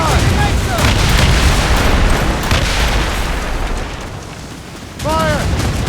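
Ship cannons in an Assassin's Creed Rogue sea battle fire in a long, loud rumbling barrage that eases, then a fresh blast erupts near the end, while crew voices shout over it.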